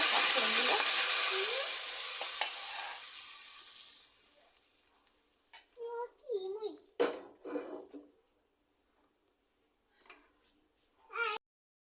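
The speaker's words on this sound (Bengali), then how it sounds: "পেঁয়াজগুলো লাল লাল করে ভেজে নিয়েছি এখন ডালের ভিতরে দিয়ে দিব" Fried onions hitting a pot of dal set off a loud hiss of sizzling that slowly dies away over a few seconds, then soft clinks of utensils and someone talking in the quiet.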